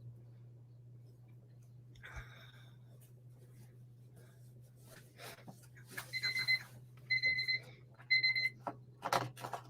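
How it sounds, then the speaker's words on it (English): A kitchen-style timer alarm beeps in three short bursts of repeated high tones near the end, fairly clear over a steady low hum, with faint background noise and no talk. "There's our timer."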